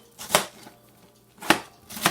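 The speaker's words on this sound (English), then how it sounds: "Keep chopping." A knife chopping cabbage on a cutting board for steamed cabbage with salt fish, three distinct close thuds spaced irregularly with quiet gaps between, no speech.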